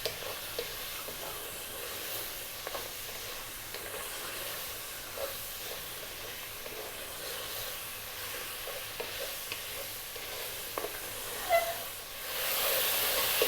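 Tomato paste for an Arab beef and tomato dish cooking in a pan on high heat, a steady faint sizzle and hiss with occasional soft scrapes of stirring, no talking.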